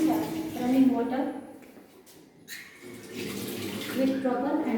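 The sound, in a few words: running water from wash basin tap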